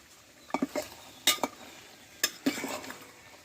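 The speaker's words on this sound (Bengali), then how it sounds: "এবার একটু আমি এভাবে উল্টি একটু নাড়াচাড়া করে দেব" Mutton is stirred and turned in a pan, producing a series of close scraping and clinking strokes over a soft sizzle, in short bursts with pauses and no talking.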